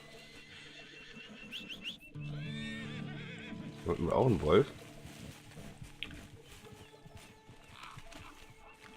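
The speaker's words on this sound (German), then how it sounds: "Wo ist mein Pferd schon wieder? Kommst du wohl her?" A horse whinnies in the Red Dead Redemption 2 video game, a loud, quavering neigh rising over a game soundscape of hoofbeats and ambience, with someone speaking German just before and around it.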